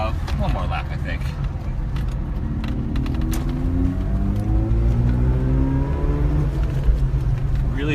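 Classic Mazda RX-7 sports car driving a lap: a rotary engine drones inside the cabin, revving up in rising sweeps with gear changes, while someone talks over it.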